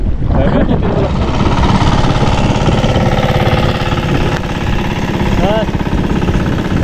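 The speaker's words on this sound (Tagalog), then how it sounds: "may dadaan na motor, oh" A motorcycle fitted with a sidecar rolls past close by, its engine a loud, steady throbbing rattle that fills the whole stretch with only slight swelling and easing, while people talk over it.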